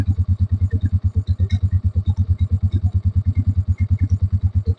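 A Fekon 150 motorcycle engine idles close by with a steady, fast, pulsing chug that stays even and loud throughout.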